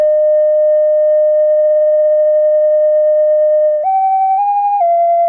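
Arturia MiniBrute 2 analog synthesizer playing a lead patch: a steady, pure sustained tone that holds one pitch for several seconds, then steps up twice before settling slightly lower, loud and alone.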